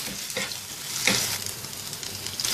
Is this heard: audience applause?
no